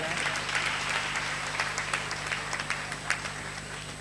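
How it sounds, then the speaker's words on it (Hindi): Applause from an audience at a ceremony welcoming the president at Kabir Dham, with a lamp being lit; steady moderate clapping throughout, mixed with crowd murmur and an underlying hum. "जोरदार ताली बजाएं।"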